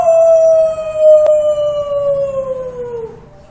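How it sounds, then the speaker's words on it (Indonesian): A wolf howls once, a single long, clear, mournful note that slides slowly downward and fades at the end, heard alone with no voices. "Bunyi binatang serigala."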